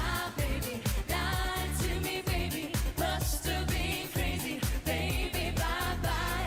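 The United Kingdom's 2003 Eurovision Song Contest entry plays as a loud, full band track with a steady pulsing beat and sung vocals throughout.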